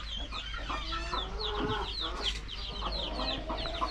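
Several chickens cluck and chatter close by in a village, overlapping short calls in a continuous flock murmur.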